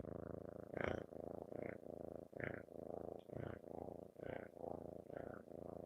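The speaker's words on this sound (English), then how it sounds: "Can you guys hear his loud purring?" A cat purring loudly and close up, a steady rumbling cycle of inhale and exhale pulses repeating about once a second, with no other sounds.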